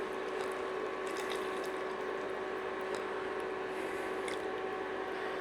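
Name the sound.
beef stock being poured into cottage pie filling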